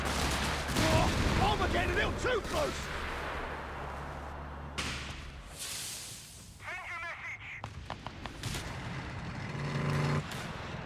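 In Company of Heroes 3, a 17-pounder anti-tank gun fires on a Panther among heavy booms and scattered gunfire, with a commentator talking excitedly over the noise.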